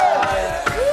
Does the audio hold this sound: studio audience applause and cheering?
yes